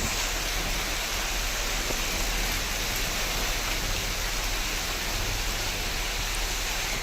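Unseasonal rain falls steadily over Betul and Chhindwara, a dense, even hiss that holds at one level for the whole stretch, with no voices.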